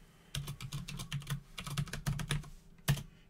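Password typed on a computer keyboard into a Linux terminal: a quick run of light, close key clicks in uneven bursts, ending with one sharper keystroke, and no voice.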